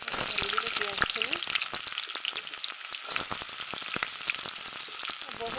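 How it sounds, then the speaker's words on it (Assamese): Onions are tipped into hot oil in a home kitchen while making khichuri, producing a loud, constant sizzle and crackle with scattered stirring clicks close by. "তেলখিনি গৰম হৈ গ'ল ঢালি দিলোঁ পিঁয়াজখিনি"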